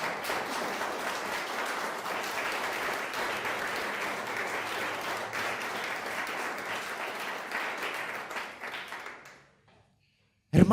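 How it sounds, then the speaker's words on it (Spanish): Church congregation applause during a Spanish-language sermon, steady dense clapping from many people for about nine seconds before dying away into near silence, followed by a brief sound at the very end. "Dale ese aplauso al Rey."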